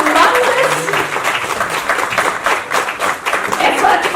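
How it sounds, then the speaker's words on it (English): Audience applause at a book launch event in Kolkata, a dense, steady wash of many hands clapping at full volume throughout, with faint voices mixed in. "please, I want a resounding applause"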